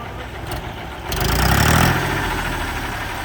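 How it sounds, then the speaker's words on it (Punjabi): A tractor engine running close by: a steady rumbling idle that swells briefly into a louder rev, then settles back to an even chug. "ਸਟਾਰਟਿੰਗ ਆਪਾਂ ਤੁਹਾਨੂੰ ਦਿਖਾਤੀ ਟਰੈਕਟਰ ਦੀ"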